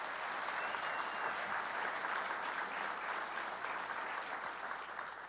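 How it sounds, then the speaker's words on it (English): Sustained applause from a crowd at a Buffalo State gathering honoring first responders and community heroes, a steady even wash of clapping lasting throughout, moderately distant and without a break. "Let's please give them a round of applause."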